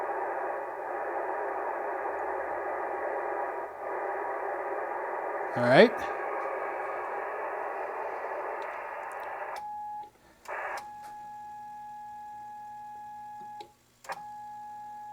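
Receiver noise from an MFJ 962D tuner setup on the 20 meter ham band: a steady broadband hiss that shifts as the tuner is adjusted, giving way to a thin continuous tone with brief bursts, with a short spoken remark.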